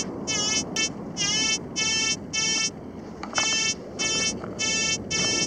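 A metal detector sounds over a target among pebbles high on a beach, giving a loud, close series of about eight regular high-pitched electronic beeps in even pulses.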